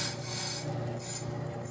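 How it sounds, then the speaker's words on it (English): A lathe cutter bit scrapes lightly against a spinning brake drum, giving a close, harsh rasping hiss in two brief surges with no talking. "now we're going to turn on the lathe and run the cutter bit in to where it just touches the drum"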